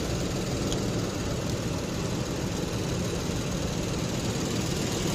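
A rental car's engine idles steadily up close with a dense, low-pitched rumble and faint vibration, holding an even level throughout with no talking.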